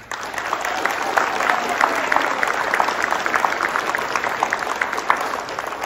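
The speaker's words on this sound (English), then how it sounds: "Please give them a round of applause." A school audience applauds students of the month, sustained clapping from many people at a moderate distance, steady and even with a few sharper claps standing out, and murmuring in the crowd underneath.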